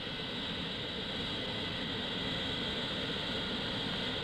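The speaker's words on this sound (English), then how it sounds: "now completed by jet airliners in as many hours. They roll to a stop at a modern international airport." Jet airliner rolling to a stop at a modern international airport in Darwin, a steady, broad roar of engine noise at moderate level, unbroken and without voices.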